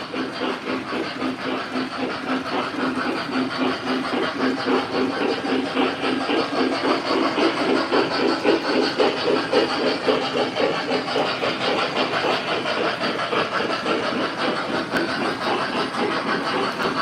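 An MTH Christmas-themed model train runs continuously at moderate volume, a steady whirring motor hum with a rhythmic clicking of wheels over track joints, with no talk over it.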